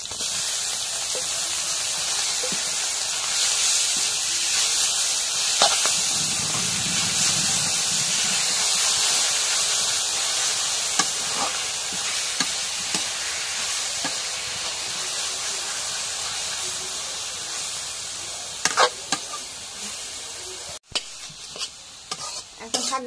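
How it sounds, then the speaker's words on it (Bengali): Leafy greens frying with chili in oil in a home kitchen pan, a steady close sizzle and hiss with spatula stirring and scraping throughout, with a few sharper clinks near the end. "এখন শাক ভাজি হয়ে গেছে"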